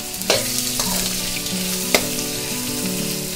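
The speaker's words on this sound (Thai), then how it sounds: "ตรงนี้เนี่ยที่เราต้องนำลงมาผัดก่อนเพราะว่าเราต้องการให้ไก่เขามีความตึงตัว" Chicken wings stir-frying in a pan before being stewed with Ovaltine, giving a close, steady sizzle with a few sharp clatters from stirring.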